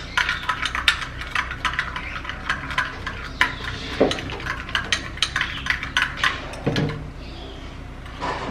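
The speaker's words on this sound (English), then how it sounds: "And then we'll give it a little stir, just like this." A spoon stirs a sugar skin scrub mixture in a bowl, giving close repeated scraping clinks and taps in an irregular rhythm, with a duller knock partway through.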